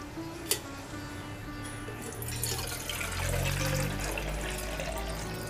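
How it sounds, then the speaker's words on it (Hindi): Water poured out of a container during a home milk-purity test with a lactometer, starting with a small clunk, then a steady splashing stream that swells and continues for several seconds, close and moderately loud. "तो ये पानी तो मैं निकाल लेता हूँ"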